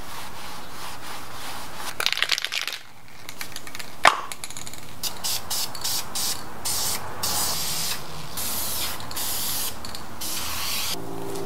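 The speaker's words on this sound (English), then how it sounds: "go ahead and sand and spray paint the surface of the gas tank just to keep it from rusting in the future" Spray paint hitting a stuntbike gas tank, first a longer hiss, then a clunk, then a run of short rhythmic spray bursts with brief gaps, close and fairly loud.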